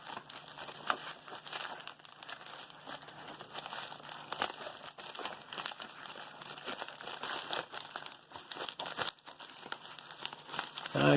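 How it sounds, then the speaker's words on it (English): Continuous crinkling and rustling as scissors cut open a sealed package, with scraping and tearing textures, close up and steady throughout, without speech. "I'm going to cut her open here, right here on camera."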